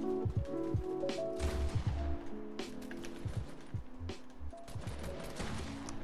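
Bot gunfire in a Fortnite aim training map, rapid bursts of shots mixed with impact and movement sounds, moderately loud and continuous, with a few sharp cracks over a busy game backdrop.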